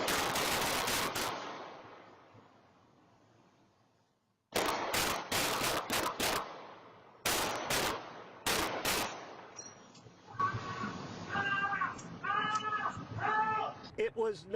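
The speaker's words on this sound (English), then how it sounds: "security camera that recorded the gunfire" A burst of gunfire caught by a home security camera on a city street, with several sharp, loud shots in two clusters followed by shouting and cries for help.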